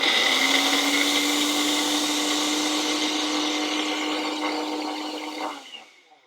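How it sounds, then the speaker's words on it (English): A countertop blender whirs loudly and steadily while grinding seeds for a vegan cobbler, holding one high whine for about five seconds before spinning down and stopping. "we'll give it a blend. And mind your ears with this because it's going to be noisy."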